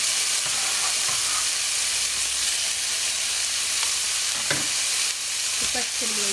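Onions, capsicum, tomato and mushrooms sizzle and fry steadily in a pan for a vegan tofu scramble, a continuous crackling hiss with occasional stirring clatters close by.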